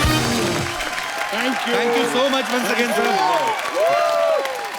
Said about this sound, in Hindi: एक बार सिन्हा परिवार के लिए जोरदार तालियां हो जाएं